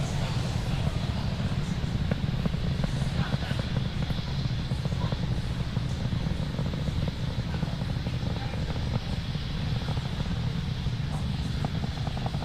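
SpaceX Falcon rocket first-stage engines roar steadily and loud through the whole stretch as the vehicle climbs toward max Q during the SES-22 satellite launch, a continuous broadband rumble with no voices.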